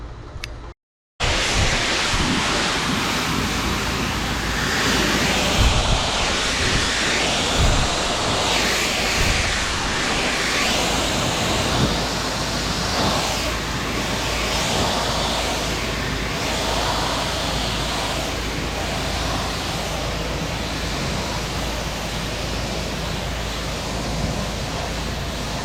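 A pressure washer sprays water to rinse a pool cage, a loud continuous hissing rush that starts abruptly after a brief silence and holds steady, close and broadband, with slight surges as the spray moves.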